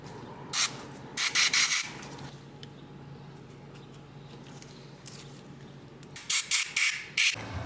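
Rubbing and scraping bursts from cleaning old dielectric grease out of light sockets on an $800 Buick Reatta, two clusters of short scrubbing strokes separated by a quiet stretch, close and fairly loud.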